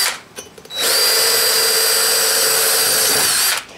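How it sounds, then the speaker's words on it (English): A DeWalt power drill with a quarter-inch bit spins up and whines at a steady, loud pitch for a few seconds close by, then winds down. "Now I'm going to drill that out with an old quarter inch drill bit"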